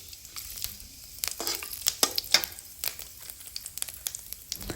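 Whole spices (cinnamon, cardamom, bay leaf and cumin seeds) frying in hot oil while being stirred for a banana flower dish: a soft, crackly sizzle with scattered sharp pops and scrapes, fairly quiet and close, with no talking.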